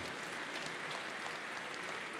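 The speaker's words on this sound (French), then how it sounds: "Les gens sont venus pour vous applaudir, Nelson" Audience applauding for Nelson Montfort, a soft, continuous wash of many hands clapping at a distance, even and sustained with no voices standing out.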